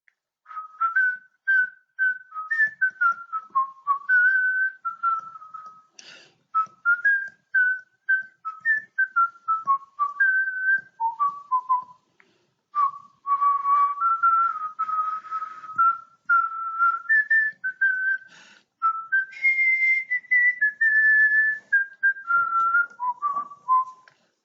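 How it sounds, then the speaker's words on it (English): Someone whistles a slow, stately national anthem tune alone, clear and close, phrase after phrase with short pauses for breath. "I'll just whistle the tune"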